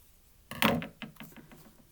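Scissors snip through paper during a holiday craft, one heavier cut followed by a string of short, quick crunchy snips, close and fairly quiet, with no talking.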